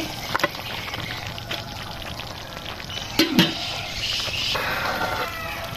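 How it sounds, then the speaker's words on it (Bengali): Dried beef shutki tipped into a pan of oily cooked spice paste, a soft rattling pour with a couple of sharper clatters midway, then a brighter sizzle building near the end. "এখন আমি মাংস ঢেলে দিব।"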